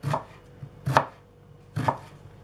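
Three crisp knife strokes chop onion finely on a cutting board, evenly spaced about a second apart, close and clear with no talking.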